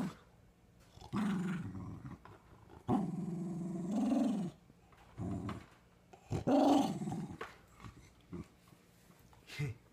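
A small dog growls in several separate bursts while playing with a toy, each low rumbling growl lasting a second or so with brief pauses between, close and clear.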